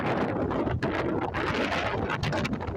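Wind gusts roar across the microphone in a loud, continuous buffeting rush with no talking, outdoors beside a parked car near a business area.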